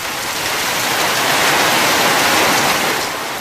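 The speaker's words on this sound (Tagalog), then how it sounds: "Nakaranas din ng malakas na pag-ulan ang Surigao City." Heavy rain pours over Surigao City, a steady, loud, unbroken hiss with no voices.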